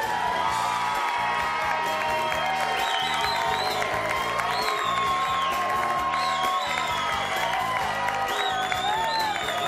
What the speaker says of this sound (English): Big round of applause for all of today's newlyweds.